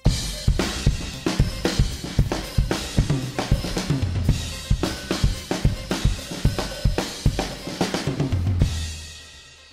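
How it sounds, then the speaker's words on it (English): A full drum kit with kick, snare, rack tom, floor tom and crash cymbals played together in a lively, punchy rhythm of close, loud hits and cymbal splashes. "When I play them all together, it sounds like this."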